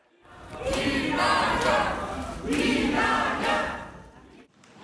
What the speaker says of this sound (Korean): 미리 도열해 있던 지지자들이 환호합니다